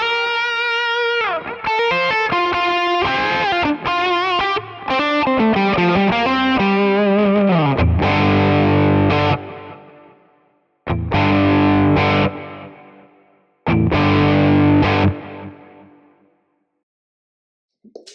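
Electric guitar at full gain through a Quad Cortex preset modeled on the Klon Centaur, playing a run of picked notes and then three big distorted chords that ring out and fade, loud and alone.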